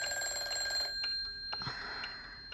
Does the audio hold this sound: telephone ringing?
yes